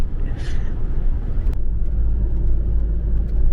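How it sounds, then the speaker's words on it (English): Inside a van rolling through a Danish hometown, a steady low road rumble and engine drone continue throughout, with a brief click near the start and no voices. "Driving through our hometown"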